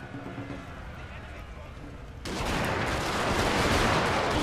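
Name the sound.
rifle volley fire in video game Shogun 2 Fall of the Samurai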